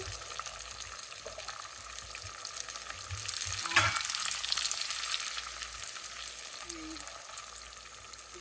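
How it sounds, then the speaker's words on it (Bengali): Bay leaf, cinnamon and cloves hit hot oil in a pot while tehari is being cooked, giving a continuous close sizzle with a brief louder burst of spattering partway through and a light clink near the end. "এই যে দিয়ে দিচ্ছি এই তেজপাতা, তারপর এই দারচিনি, লং,"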